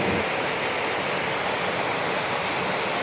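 Steady, broadband rush of water gushing over a waterfall, loud and close throughout with no pauses and no voices.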